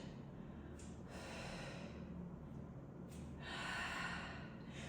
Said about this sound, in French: Et je souffle. Inspire et expire.